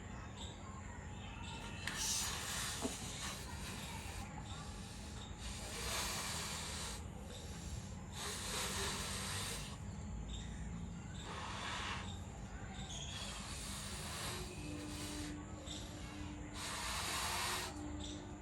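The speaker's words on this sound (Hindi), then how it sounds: "ये गुब्बारे की साइज आप पूरी तरह से आप फुला लेते हैं" Repeated breathy bursts of air blown into a balloon, several long puffs at a steady rhythm, fairly quiet and close with a soft hiss.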